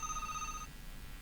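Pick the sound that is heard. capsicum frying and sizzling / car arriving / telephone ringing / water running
telephone ringing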